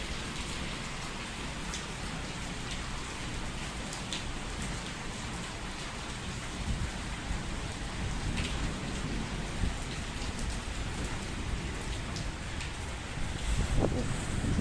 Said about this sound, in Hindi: बारिश होना स्टार्ट हुई है, इतनी ज़्यादा बादल और गरज चमक के साथ